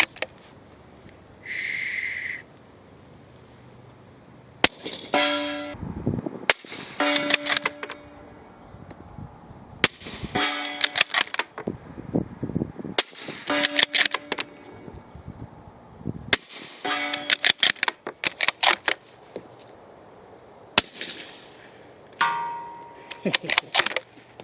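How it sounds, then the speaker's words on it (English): A suppressed Tikka rifle fires subsonic .308 rounds, several sharp, muted cracks spaced a few seconds apart, each followed by mechanical clacks of the bolt being cycled, heard close up. "Throwing it on the Tikka and shooting some subsonic 308"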